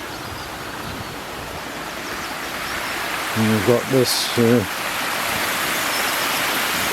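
Water rushes steadily from a canal lock overflow on the Middlewich canal, a loud, constant roar heard close by, while someone speaks briefly over it.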